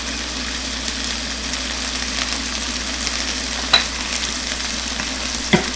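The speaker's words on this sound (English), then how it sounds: "let's go ahead and put them in a pan" Chicken pieces fry in a pan with a loud, steady crackling sizzle that fills the whole stretch, close up with a couple of brief sharp pops and a low background hum.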